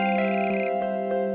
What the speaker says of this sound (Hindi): जरूर अम्मा फोन कर रही होंगी